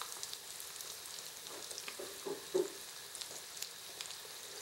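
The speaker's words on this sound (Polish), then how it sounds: "na dosyć głęboki tłuszcz wykładamy nasze de volaille. Musimy dokładnie je smażyć z obydwu stron." De volaille chicken cutlets laid into fairly deep hot fat and fried, giving a steady, quiet sizzle with a few brief louder pops and crackles, no talking.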